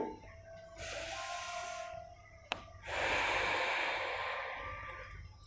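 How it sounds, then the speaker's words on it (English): Deep pranayama breathing during a guided exercise: two long, close, loud breaths, separated by a brief pause and a sharp click, with no talk. "So we will do 20 of this deep breathing practice."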